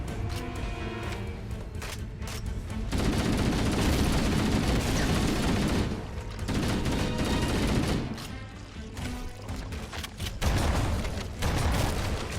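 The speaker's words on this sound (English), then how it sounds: "Grenade exploded in my face" Heavy combat in the Halo: CE Anniversary mission The Maw, with repeated booming grenade explosions and gunfire in dense, loud bursts across the scene.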